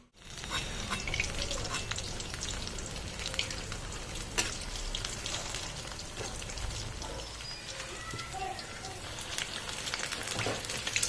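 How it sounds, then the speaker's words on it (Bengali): Cauliflower pakoras frying in hot oil over a low gas flame, a dense continuous sizzle and crackle with scattered pops, close and steady with no talking. "তো আর যে বাকিগুলো আছে সেগুলো ভেজে নেবো ঠিক এইভাবে।"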